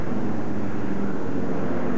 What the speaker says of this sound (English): from the west, flew in a real vintage bomber, an American Boeing B-17, a flying fortress